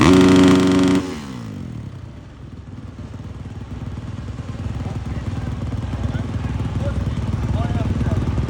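Jett Lawrence's motocross motorcycle gives a short, loud high rev during a post-race sound test at technical inspection, then drops away beneath crowd noise and people talking.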